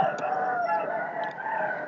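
A Burmese-type gamecock crows once near a rural Thai home, a loud, close, drawn-out call with a few short clucks mixed in.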